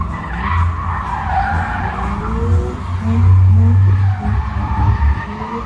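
Car drifting through figure eights and other manoeuvres at a Doncaster racecourse motor show, tyres squealing and smoking. A loud, continuous screech of rubber over a steady engine drone, swelling in the middle.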